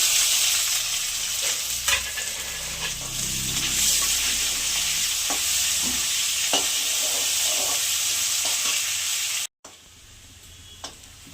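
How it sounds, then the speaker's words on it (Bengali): Dried red chillies, bay leaves and cumin seeds frying in oil in a home kitchen pan, a steady loud sizzle with stirring scrapes throughout, briefly cut off near the end before resuming more quietly. "শুকনো লঙ্কা, তেজপাতা, একটু জিরে, ভেজে নেব।"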